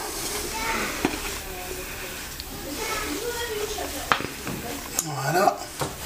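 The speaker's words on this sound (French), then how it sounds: "on remue le tout de nouveau" Cake batter with pieces of apple stirred in a bowl for a chicken curry cake, with soft scraping and occasional utensil knocks against the bowl under continuous talk.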